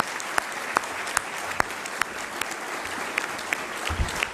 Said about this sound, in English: how about a round of applause for our speaker and Ivanka